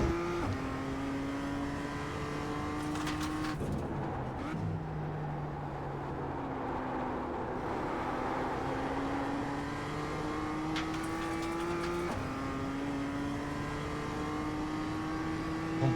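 A race car in a racing video game laps steadily, its engine drone rising and falling through gear shifts and long accelerations, heard alone.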